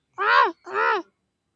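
A young boy imitates a crow cawing with two drawn-out, hoarse vocal calls, close and fairly loud, followed by silence.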